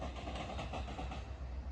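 Train passing at the Des Plaines Diamond rail crossing, a faint, low rumbling roll with soft rhythmic wheel clatter heard from some distance.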